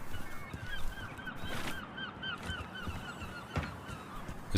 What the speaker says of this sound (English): As the seagulls spittle spattle across the London docks.